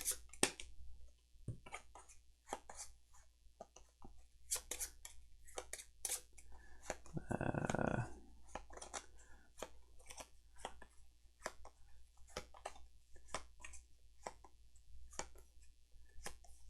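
Arkham Horror card deck shuffled by hand during a Dunwich Legacy game setup, heard as close, quiet papery clicks and flicks with a denser riffling burst midway, no talk.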